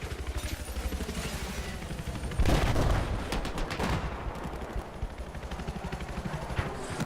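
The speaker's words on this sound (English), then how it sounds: "Let's just zoom in on this guy, he's sniping." Rapid sniper and rifle gunfire in Battlefield 4, a burst of cracking shots with sharp echoing reports over a steady battlefield din, loud and close.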